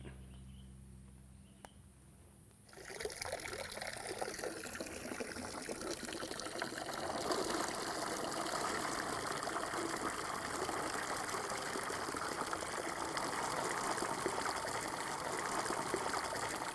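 Freshly harvested coffee cherries are washed in water, giving a quiet start followed by a continuous close gush and trickle of churning water that grows fuller and stays steady.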